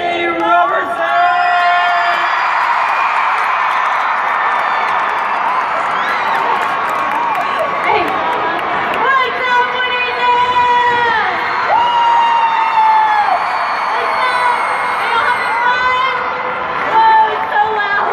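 Huge arena crowd at a Winter Jam concert in the Georgia Dome, Atlanta, cheering and screaming loudly and continuously with high whoops and shrill shouts to welcome Sadie Robertson, all at full volume.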